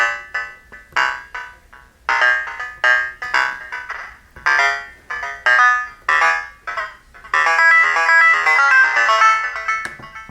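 Short synthesizer tones from a Korg NTS-1 with delay pulse in a rhythmic series, each one echoing and fading, before blurring into a sustained, smeared tone near the end.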